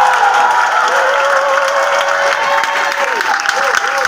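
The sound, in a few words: audience applauding and cheering for Jesus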